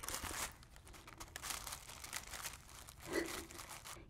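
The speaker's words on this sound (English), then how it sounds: "I absolutely love the sound of this crinkly paper." Crinkly paper packaging from a phone case being handled up close, with continuous rustling and crackling crinkles throughout and a slightly louder crunch near the end.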